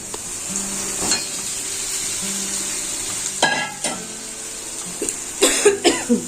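Potatoes sizzle steadily as they fry in a pan in a home kitchen during Bengali cooking, with a constant hiss broken by clinks and scrapes of stirring and a few brief coughs.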